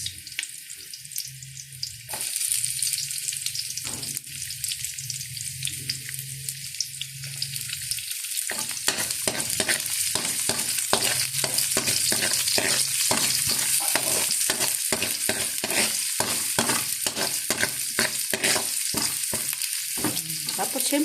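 Garlic and onion sauté in a hot pan, a constant hissing sizzle with stirring scrapes that turns into a denser, crackling fry partway through, as a voice speaks under it.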